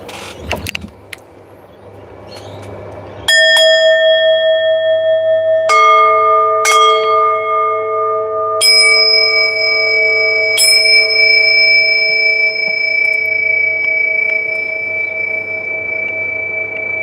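Struck bells ring out one after another, each clear metallic tone sustaining and overlapping into a layered, shimmering chord that hangs on for many seconds, loud and close with no talking.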